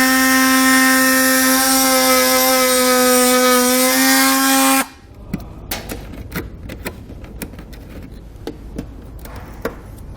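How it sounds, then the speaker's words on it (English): A cutoff wheel trimming a Roadmaster base plate part for a 2019 GMC Acadia gives a loud, steady, high whine for about five seconds, then stops and leaves light knocks and clatter. "we're just going to use our cutoff wheel to cut this out"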